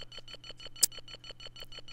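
Steady repeated electronic beeping from the Amiga game Boulder Dash II, about eight evenly spaced tones per second over a low hum, with one brief louder click partway through.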